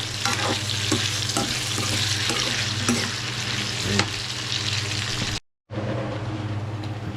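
Jalapeno and celery fry in a pan with a steady, close sizzle, plus occasional stirring scrapes and clinks. The sizzle cuts out briefly near the end, then resumes.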